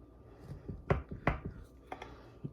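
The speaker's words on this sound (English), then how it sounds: "So let's cut us a slice." A knife cuts a slice of pink flamingo cake, making several soft, brief crunching and tapping strokes close by, with a couple of sharper cuts and no talking.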